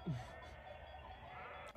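A sheep bleats once near the start in a Côte d'Azur mountain pasture, a short wavering call over faint steady outdoor ambience.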